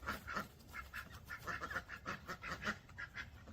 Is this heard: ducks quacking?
yes